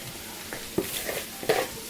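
Chicken gizzards frying in oil in a pan, a faint, quiet sizzle with a few soft clinks and scrapes of stirring at close range.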